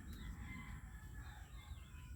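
A chicken clucks and crows faintly, with short calls over a low background rumble.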